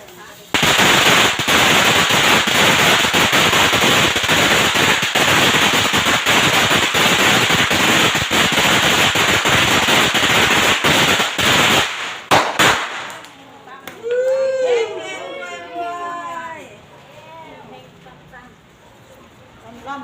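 A long, dense string of firecrackers crackles and pops rapidly and loudly for about twelve seconds, then stops, leaving people talking and cheering nearby.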